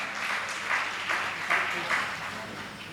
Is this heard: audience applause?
yes